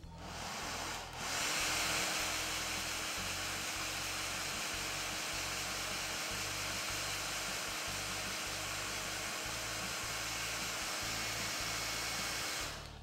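A hair dryer blows steadily close by while drying patina paint on a small decorative house, a constant loud rushing whoosh after a brief quieter start.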